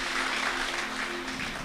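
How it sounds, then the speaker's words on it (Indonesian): Applause from a church congregation during a Sunday worship service, a dense, even wash of many hands clapping that fills the room for the whole short stretch, with a faint sustained tone underneath. "Mari berikan tepuk tangan yang paling meriah bagi Allah kita"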